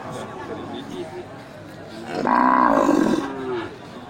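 Simmental mother cows with their calves at a livestock sale give a drawn-out moo at moderate distance, while someone talks nearly throughout.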